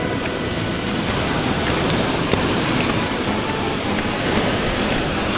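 Steady heavy rain pours outdoors during a walk with friends, a dense, even hiss of falling water with no voices over it.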